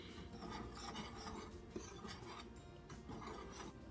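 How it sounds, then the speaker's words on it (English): Flour and salt being whisked in a bowl, a steady scraping, rasping rub with repeated strokes of the whisk against the bowl, close and continuous with no talking. "Going to whisk these until they're well incorporated."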